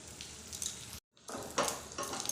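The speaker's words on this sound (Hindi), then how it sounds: "किशमिश जब हल्का सा फ्राई हो जाए" Raisins fry in a pan over a low flame, giving a soft steady sizzle with light crackles, briefly cut to silence before resuming with a few stirring scrapes, quiet and close.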